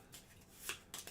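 Playing cards reshuffled during a tabletop game, heard as a few quick, soft riffling bursts close by, with the last flutters near the end and no talk over them.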